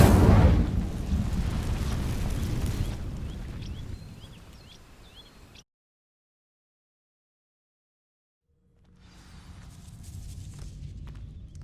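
In Hogwarts Legacy, the Incendio spell sets dry vines alight with a loud, roaring burst that fades over about five seconds. A stretch of silence follows, then a low rumble gradually builds.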